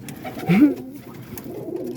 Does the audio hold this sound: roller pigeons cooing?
yes